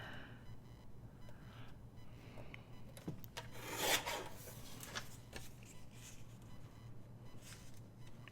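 Paper postcard being trimmed for a travel journal, heard as soft rasping scissor or cutting strokes, briefly louder around the middle, against quiet room noise.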